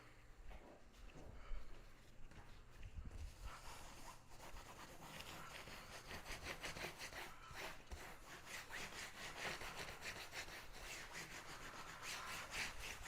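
A soap cutter slices through a block of homemade cold-process soap, a steady scraping, sawing rasp repeating at close range for several seconds, growing denser toward the end, with no talking.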